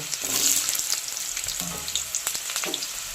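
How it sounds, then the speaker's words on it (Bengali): Diced potatoes fry in hot oil for a cauliflower dish, a close crackling sizzle with scattered pops and the scrape of stirring now and then, no voices. "আলুটা একটু লাল লাল করে ভেজে নেব।"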